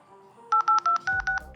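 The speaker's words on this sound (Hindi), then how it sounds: "ब्लैकबेरी से हम कॉल करने वाले हैं।" A quick run of about nine keypad dialing tones from a BlackBerry Passport phone, crisp evenly spaced beeps close by.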